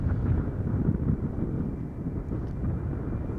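Wind from the east-northeast buffets the microphone beside a runway at Schiphol Airport, a dense low rumble that stays loud and continuous throughout with slight swells, and no voices.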